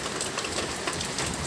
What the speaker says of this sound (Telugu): ఈరోజు అయితే వర్షం కురుస్తుంది